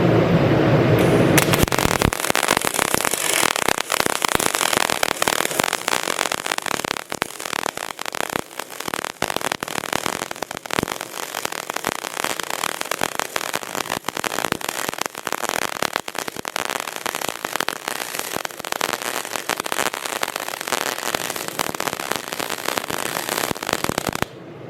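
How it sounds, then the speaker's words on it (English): A 150-amp titanium spool gun welds steadily up close, a dense continuous crackling hiss that starts after a brief lead-in and holds loud and even for over twenty seconds with no talking. "This is the titanium spool gun."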